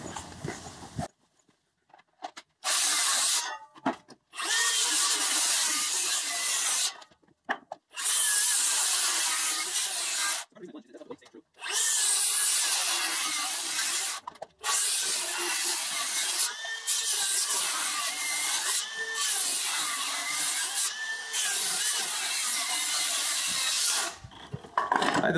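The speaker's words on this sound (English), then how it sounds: "can we just say how impressive this saw is? You can hear I'm bringing it right up to its limit." A battery-powered saw cuts wood for stair stringers in repeated long bursts of loud, strained whining cutting, separated by short pauses, with no talking.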